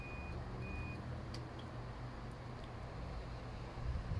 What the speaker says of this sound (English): you can hear the buzzer still bleeping away